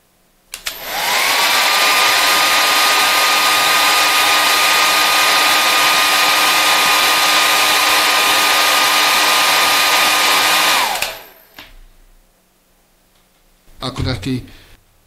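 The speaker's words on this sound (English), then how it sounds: "And you can go for the traditional hairdryer." A JIGOO H300 hair dryer clicks on and runs with a loud, steady whine for about ten seconds, then shuts off; a brief voice follows near the end.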